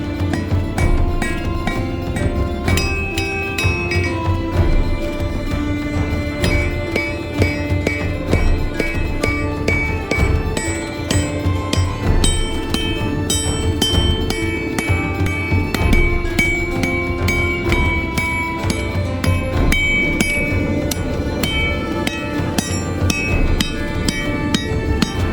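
Hammer blows forging a W2 steel katana blade, a steady run of sharp metallic strikes ringing out one after another at close range, continuous and loud throughout.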